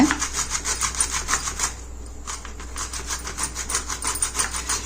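Dried mango seeds scraped over a carrot grater, a steady series of rhythmic rasping strokes close up, briefly pausing mid-way before the quick scraping resumes, with no talking.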